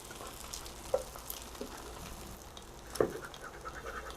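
A single salted egg fries in a pan with a red chili, giving a quiet continuous sizzle with two sharper scraping clicks of a spatula, no voices.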